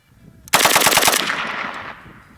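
AK rifle fitted with a three-position forced reset trigger firing a rapid burst of about six shots, loud and close, the blasts ringing out into a fading echo.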